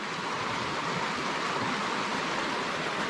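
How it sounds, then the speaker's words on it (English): Rushing water of an open creek, a dense steady broadband roar heard close and continuous with no voices. "Just love the sound of the rushing water."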